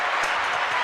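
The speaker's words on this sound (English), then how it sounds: "Give myself a round of applause." Round of applause heard as a short, dense wash of clapping, loud and steady throughout the brief moment, with no speech over it.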